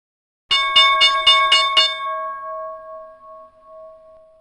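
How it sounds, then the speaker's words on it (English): A bell in a trading room rings six quick metallic dings in a row, loud and close, then its bright tone hangs and fades slowly into silence. "So there was the bell."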